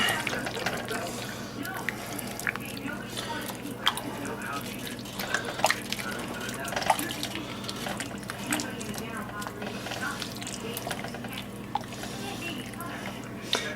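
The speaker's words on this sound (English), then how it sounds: "And I want to add in a jar of clam juice." Clam juice poured from a jar into a pan of chowder with tender potatoes, giving a steady faint liquid trickle with scattered drips throughout.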